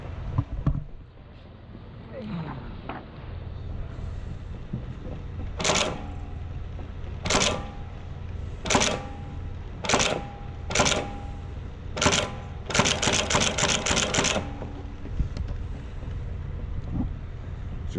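An Acme Interlake Model A flat book saddle stitcher running on 115 volts fires off a series of sharp mechanical clacks, single strokes spaced apart and then a quick burst of several, over a low hum.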